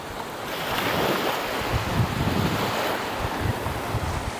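Surf at Palolem Beach in South Goa, a steady loud wash of waves mixed with heavy wind buffeting the microphone, continuous throughout with no voices.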